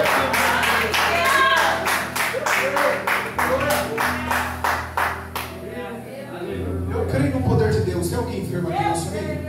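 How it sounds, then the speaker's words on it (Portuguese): A church congregation applauding during a worship service, dense rhythmic clapping that fills the room, with a voice and music continuing over it. "Agora é Deus. Aplausos."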